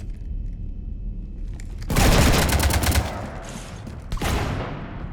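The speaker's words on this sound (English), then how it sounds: "You want to stop shooting up my ship?" Gunfire in the Mass Effect 3 video game: a loud burst of rapid automatic shots erupts after a quiet stretch, rattles on for about a second, then a second volley follows, with no talking.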